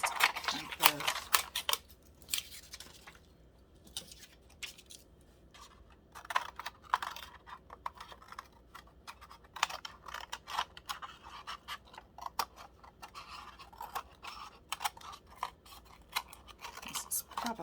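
Repeated crisp snips and scrapes of scissors cutting paper, close, in irregular bursts with quiet pauses and some soft talking between.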